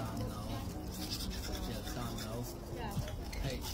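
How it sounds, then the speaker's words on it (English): Toothbrush scrubbing teeth in quick, rough back-and-forth strokes, close to the mic, with a person's voice murmuring intermittently over the brushing. "Let's have a quick brush of the teeth."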